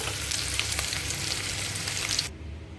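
Onions frying in oil over high heat give a dense, crackling sizzle with small pops, steady and close, cutting off abruptly near the end.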